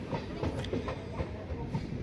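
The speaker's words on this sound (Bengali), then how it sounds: "আমাদের ট্রেন এসে পৌঁছালো যাত্রাপথের সেকেন্ড লাস্ট স্টেশন বার্নপুরে" A Bishnupur–Asansol MEMU local train arriving at Burnpur station rattles along with a rhythmic clickety-clack of wheels over rail joints and a steady rolling rumble, heard from on board at moderate volume.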